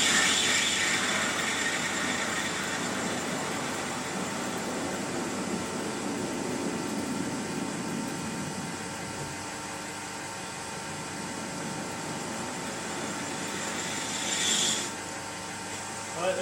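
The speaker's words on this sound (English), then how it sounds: "So I'll just machine this middle part off." A lathe machines a gear blank for the crankshaft gear of a 2-inch Fowler Showman's traction engine, producing a steady mechanical whir and cutting hiss that holds evenly throughout, easing slightly toward the end.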